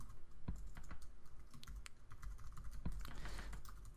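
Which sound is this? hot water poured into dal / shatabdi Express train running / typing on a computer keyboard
typing on a computer keyboard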